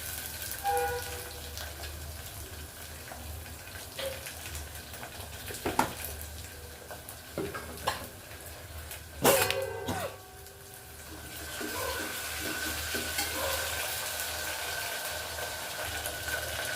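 Ginger garlic paste fries and is stirred in a curry pan for a Telangana-style fenugreek tomato curry, giving a faint, steady sizzle with occasional scraping clicks of a spoon against the pan, no voices.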